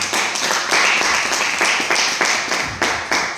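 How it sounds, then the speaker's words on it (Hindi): Audience applause at a product presentation event, a dense burst of clapping in uneven surges, loud and fairly close, with no talking over it. "शक्ति लाइफ के लिए एक शानदार तालियां होनी चाहिए।"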